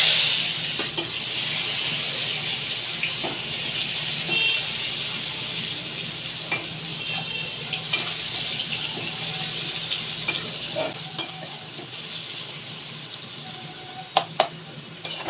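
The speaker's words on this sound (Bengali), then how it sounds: "এইবার আমি পেঁয়াজ দিয়ে দিলাম" Onions go into hot oil with blackened nigella seeds for a tilapia fish curry, giving a broad, steady hissing sizzle with occasional sharp pops, close by and without voices.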